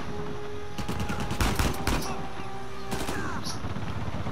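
Gunfire rattles in a firefight in Uncharted 4 on Crushing difficulty. Several close bursts and single shots crack in quick succession over loud, continuous combat noise.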